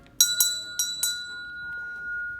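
A small bell rings four quick times at a beer tasting to mark the next beer, each strike bright and metallic, with a clear tone lingering and fading after the last ring.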